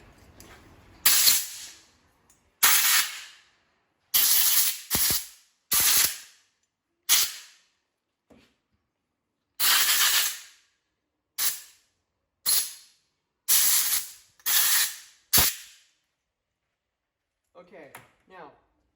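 Compressed air blasted through Banshee carburetors in a series of about a dozen sharp, loud hissing bursts, each lasting a second or less, separated by short silences.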